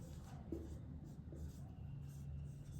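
Someone writes on a board, producing quiet, close scratching strokes in short bursts against a soft background.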